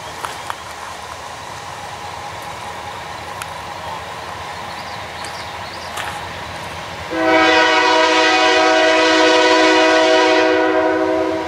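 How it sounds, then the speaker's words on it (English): A northbound Canadian National ore train passes on the Mintac line near Mount Iron in the North Woods. A low rolling rumble runs throughout, then a loud, sustained multi-tone horn blast starts partway through and continues to the end. "we caught this northbound ore train on the Mintac line"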